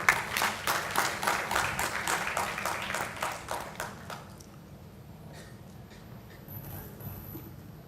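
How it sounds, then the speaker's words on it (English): An audience of students at a national seminar claps in a steady, rhythmic beat for about four seconds before it fades into quiet room tone. "I just want to give a big clap for all the dear students for clapping us continuously and encouraging us"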